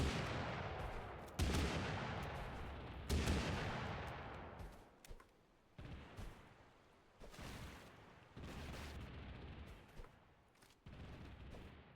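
Sawed-off shotgun blasts in the game Totally Accurate Battlegrounds, a rapid series of loud booming shots at irregular intervals, each decaying quickly, with no talking.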